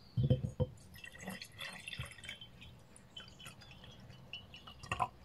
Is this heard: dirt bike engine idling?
no